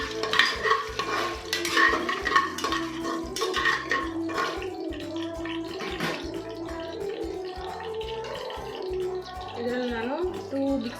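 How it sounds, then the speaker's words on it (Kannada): Chicken biryani ingredients frying in a pan and stirred, with a steady sizzle and scraping of the spoon running throughout while a voice talks over it. "ಎಲ್ಲ ಇಂಗ್ರೀಡಿಯೆಂಟ್ಸ್ ಹಾಕ್ಕೊಂಡು ಚೆನ್ನಾಗಿ ಫ್ರೈ ಮಾಡ್ಕೊಳ್ಳಿ."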